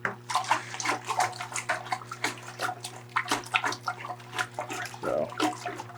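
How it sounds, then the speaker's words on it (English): Liquid for a pineapple cider splashes and churns turbulently into a fermenting vessel, a steady run of sloshing, bubbling pulses heard close with no talking. "good, turbulent mix to get a bunch of oxygen mixed into this vessel."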